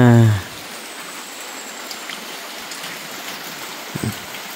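Steady rain falls outdoors in a rural setting, a continuous soft wash of drops hissing evenly throughout, with a brief voice at the start and a faint thump near the end.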